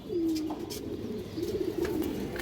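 Pigeons coo in a low, steady rolling call that carries through most of the stretch, with a second cooing phrase later, near and moderately loud over faint background noise; these are tournament running flyer pigeons.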